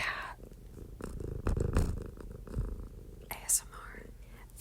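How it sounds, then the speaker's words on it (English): A cat purrs softly and close, a low rumble running under whispered talk, with a few brief louder rustles and bumps. "Can you hear this cat?"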